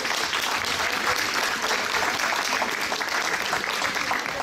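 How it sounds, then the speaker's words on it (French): Audience applause at a French film preview event, a steady, dense wash of clapping from a live crowd that fills the whole stretch at an even level. "Applaudissements pour tous nos partenaires."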